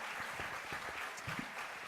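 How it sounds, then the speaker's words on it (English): A CUEtalks audience gives a round of applause, a soft, distant and steady patter of many hands clapping together with no voices over it. "Give them another round of applause."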